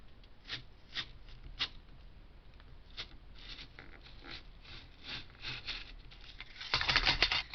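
A paper circle just over 3 inches across being cut with a circle cutter for handmade card making: soft, intermittent scratchy scraping and light taps, growing to a denser, louder rasp at the end.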